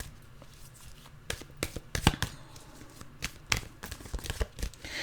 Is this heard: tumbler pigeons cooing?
no